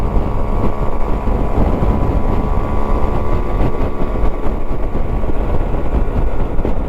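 Honda Varadero 125 motorcycle riding along a country road under a grey sky, a steady droning engine and heavy wind rush filling the whole stretch, loud and continuous with no pauses.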